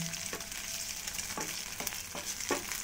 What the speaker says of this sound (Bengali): সয়াবিনগুলো একটু লাল লাল করে আমি ভেজে নেব।